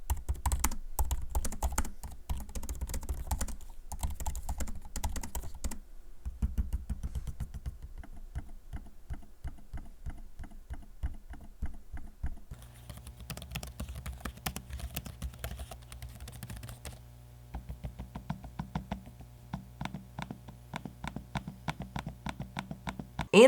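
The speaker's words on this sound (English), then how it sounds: "I'm gonna give you a quick audio sample of me using both keyboards and trackpads" Keys clatter on a MacBook Pro M1 and an ASUS Zephyrus M16 laptop, with trackpad clicks mixed in: quick bursts of close, crisp typing broken by short pauses, softer and duller in the later stretch.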